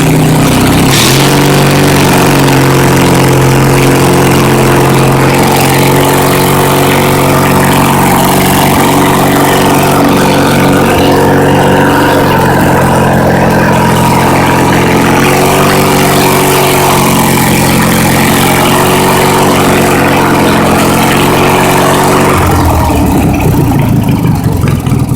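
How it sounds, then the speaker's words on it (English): An old tractor engine, put up into sixth gear and given some gas, revs loud and close for a sustained stretch. Its pitch shifts as it runs, and it then drops off abruptly near the end. "we'll put it up into 6 and give it a little gas"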